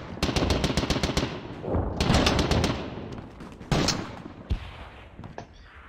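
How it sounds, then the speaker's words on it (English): Rapid bursts of gunfire from the World War One tactics game John Tiller Squad Battles, poured into a gassed bunker: loud, dense volleys of shots in quick succession with heavy crackling echoes, pausing briefly before further bursts. "then fire into the gassed bunker"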